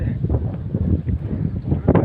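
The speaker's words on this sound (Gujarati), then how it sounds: "ઠંડો પવન પણ એવો થઈ ગયો છે" Cold wind gusts steadily across an outdoor microphone on a cloudy, rain-threatening morning, a continuous low roaring rumble with no pauses.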